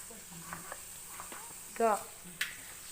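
Crushed ginger, green chilli and curry leaves stirred in a pan, a few faint scrapes and soft sizzle, with a brief voice sound midway and a quiet background.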